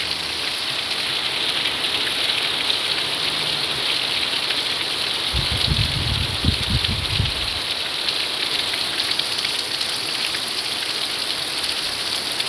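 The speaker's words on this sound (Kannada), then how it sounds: "ಮೊನ್ನೆಕ್ಕಿಂತ ಇವತ್ತು ಸಖತ್ ಜೋರು ಮಳೆ" Heavy rain pours steadily with a dense hiss, and a brief low rumble rises near the middle before fading back into the constant downpour, with no voices heard.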